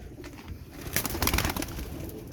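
Pigeons kept by a breeder for sale, cooing softly with several overlapping low calls at moderate distance, amid faint background bird noise.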